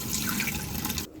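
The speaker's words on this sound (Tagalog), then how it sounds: "Ibuhos ang tubig." Water pours in a steady, close rush into a pot to rinse rice, a continuous splashing flow that stops abruptly after about a second, with no one talking.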